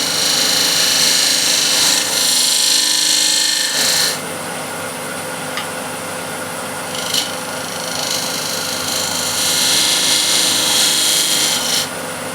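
A woodturning lathe with a scraper taking light shear cuts on a bead of a wooden vase gives a continuous hissing, raspy scrape over the motor hum, with brief pauses and changes in pressure.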